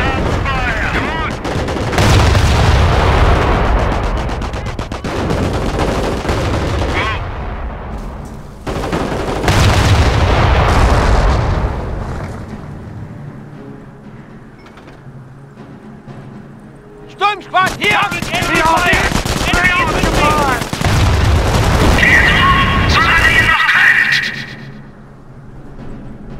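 Gunfire and artillery fire from the World War II strategy game Company of Heroes, with bursts of loud booms and rattling small-arms volleys separated by quieter lulls. Unit voices talk between the salvos.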